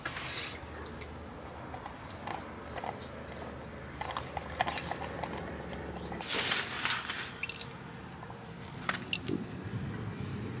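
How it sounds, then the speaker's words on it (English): Water pumped through a copper coil in a DIY passive solar greenhouse window heater drips into a small cup, making sporadic, faint, close drips and squishy trickles against a quiet background. "So once our water runs in, it runs through all this copper coil, down through, and we're gonna catch it in this little cup."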